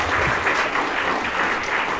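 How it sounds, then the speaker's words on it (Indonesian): An audience at a school seminar gives steady, continuous applause that fills the room evenly from start to finish. "Tepuk tangan sekali lagi."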